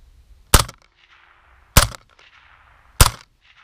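Three sharp suppressed shots from an AR-57 rifle fitted with a Dead Air Mask suppressor, fired into dirt about 12 yards away with subsonic ammunition, evenly spaced about a second apart, each a loud crack with a brief tail.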